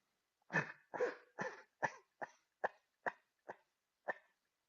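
A run of nine short, sharp coughs at a steady pace, the first few fuller and the later ones lighter, with near silence between them.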